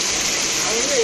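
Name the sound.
heavy rain pouring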